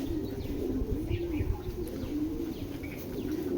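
A Giribaz pigeon coos in low repeated murmurs, close and steady throughout, with faint chirps from other birds in the background.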